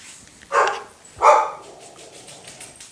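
Two sharp dog barks about half a second apart, close by, followed by quiet room noise.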